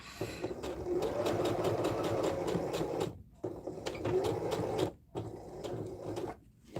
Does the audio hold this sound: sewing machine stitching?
yes